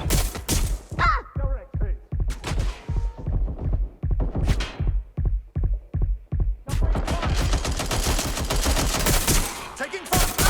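Bursts of gunfire crackle through a Watch Dogs Legion firefight: rapid single shots in uneven volleys that give way to sustained automatic fire, loud and near, with game voices calling out between the shots.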